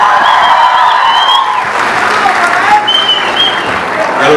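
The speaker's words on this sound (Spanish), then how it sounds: "Michael, que viene de Puerto Rico, un aplauso para él también" Audience applause for a guest at a live salsa show with a singer and his orchestra, loud and steady throughout, with voices and shouts mixed into the crowd noise.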